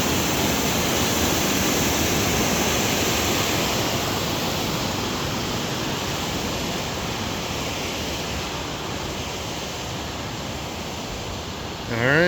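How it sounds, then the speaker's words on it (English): A creek flows past old restored buildings in the Kennicott historical park, a constant loud broadband rush of water that stays even throughout, close by and unbroken. "There's a lovely creek flowing between them."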